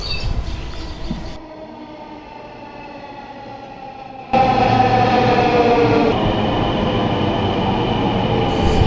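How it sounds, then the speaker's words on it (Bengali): A Dhaka metro rail train pulls into a station with a rising mechanical hum that swells into a loud, sustained rumble partway through. "কিছুক্ষণের মধ্যে মেট্রোল চলে আসলো"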